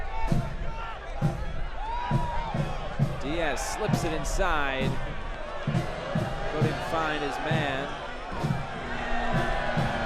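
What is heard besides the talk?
stadium crowd cheering at soccer match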